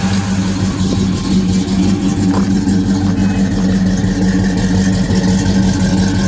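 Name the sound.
1972 Oldsmobile Cutlass Supreme engine rumbling through Flowmaster exhaust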